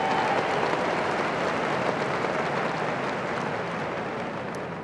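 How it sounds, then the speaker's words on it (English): Steady, dense applause from a large commencement audience honouring sign language interpreters, an even wash of clapping that holds for several seconds and fades slightly at the end. "Please give them a round of applause."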